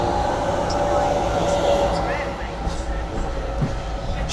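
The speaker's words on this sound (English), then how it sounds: "Arriving in now will be your 14:49 East Midlands Railway service from London St Pancras to Sheffield" An East Midlands Railway passenger train rumbles into Chesterfield station with a steady low roar and faint clanks, close by, under the ambient hum of the platform.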